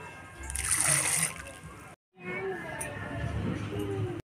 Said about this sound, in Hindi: गेहूँ धो के डाल दिए सूखने के लिए